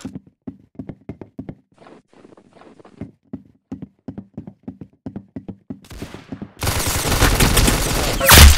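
Bursts of gunfire from the Roblox shooter game Arsenal: a long run of sharp, evenly spaced shots, then a loud, dense, continuous blast of noise near the end, with no talking.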